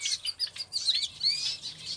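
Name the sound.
excited hungry exotic aviary birds chirping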